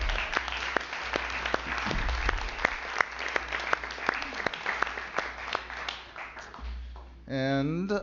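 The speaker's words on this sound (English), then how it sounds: "So another round of applause for Sue Fitzsimmons." A city council meeting audience applauds, steady mid-distance clapping with sharp individual claps standing out, which dies away near the end as a voice begins speaking.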